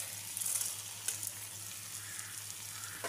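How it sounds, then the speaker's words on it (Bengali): Spice paste sizzling steadily in hot oil with rice and a fish head, a continuous close hiss with a few brief stirring scrapes. "আমার মশলাটা প্রায় ভাজা হয়ে যাচ্ছে, তেলটা ছেড়ে দিচ্ছে।"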